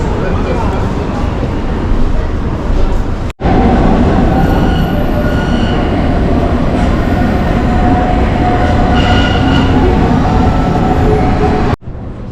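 A train runs along a station platform on a line into Hamburg, with heavy rumbling, clattering wheels and faint squeals. Voices talk over the noise, and two sharp cuts break the sound.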